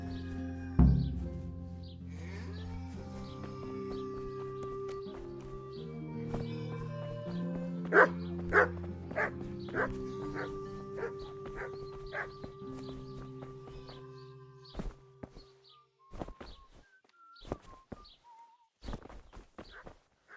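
A stray village mutt in Kingdom Come Deliverance makes odd, barking and yelping noises in short bursts over a sustained tonal musical backdrop, alternating between clustered calls and quieter gaps.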